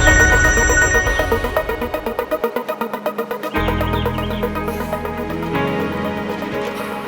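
A phone ringtone rings loudly with a repeating melodic electronic tune and steady pulses, playing alone without any talk.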